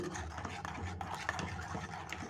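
Turmeric is stirred into a homemade soap mixture in a bowl, giving soft irregular scraping and clinking strokes, faint and close.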